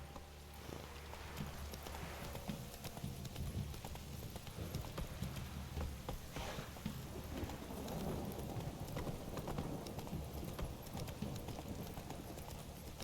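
Hooves of the horse Roach galloping in a video game, a steady rapid clip-clop running the whole time over a dense background of game ambience and faint rumble.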